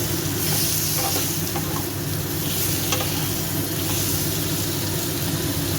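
Tomato frying in a pan with flat beans and eggplant makes a loud, constant sizzle with a steady hiss, and intermittent stirring scrapes run through it.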